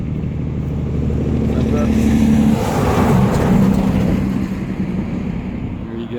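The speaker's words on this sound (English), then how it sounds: "Here comes a big truck." Big truck passing a cyclist stopped beside a country road, its engine rumbling loudly up close as it goes by, then fading away, while someone talks briefly over it.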